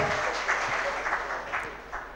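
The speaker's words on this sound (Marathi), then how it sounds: "जरा टाळ्या वाजूयात." Audience applause at a Rotary Club of Manchar discussion event, moderate steady clapping from a seated crowd lasting about two seconds, somewhat distant and even.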